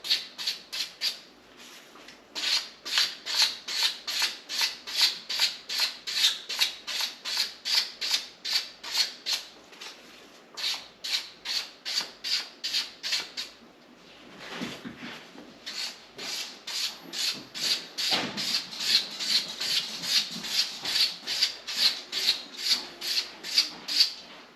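Rhythmic, raspy sanding strokes on a pool cue tip, dozens of quick back-and-forth rubs at a steady pace, close up with brief pauses.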